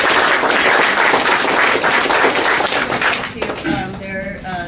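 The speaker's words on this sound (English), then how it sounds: "And applause." An audience at a poetry reading applauds, a dense, even wash of clapping for about three seconds that then thins out and fades as a voice begins.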